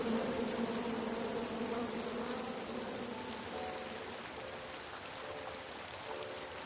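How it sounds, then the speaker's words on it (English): Angry bees swarm from a chopped-down tree in a video game, a dense, steady buzzing hum with a faint higher drone that comes and goes. "And then you chop down the tree full of angry bees?"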